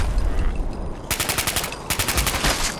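Automatic gunfire in Fallout 4 with heavy recoil: two rapid bursts of evenly spaced, loud shots, the second cut short by a brief pause, over a low game ambience.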